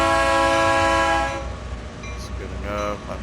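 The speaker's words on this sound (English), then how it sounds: "I know everybody can hear at least one horn honk." A locomotive horn in the Train Sim World 5 game sounds one long, loud, steady blast at Cresson on a coal delivery run, then cuts off, leaving rumbling engine noise and a fainter second toot.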